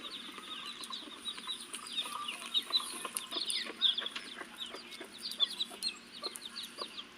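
A hen clucks steadily in a farmyard. The rapid, chattering calls run throughout, at moderate distance, over a faint steady background, with no talk.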